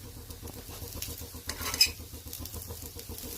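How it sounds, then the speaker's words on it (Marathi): Appe are flipped and roasted in an appe pan, with quick rhythmic clicks and scrapes of a utensil against the metal over a faint, soft sizzle. "सर्व आप्पे मी पलटून घेते."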